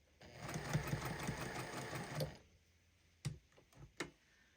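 A sewing machine stitches the small fabric seams of a scrappy star Christmas quilt block, running steadily for about two seconds with a rapid mechanical pulse, then stopping, followed by a few sharp, separate clicks.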